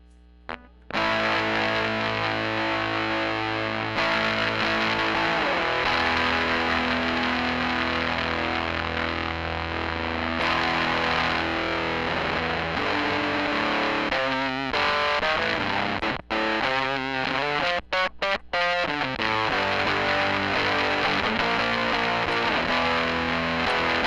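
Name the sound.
distortion effect from a homemade distortion circuit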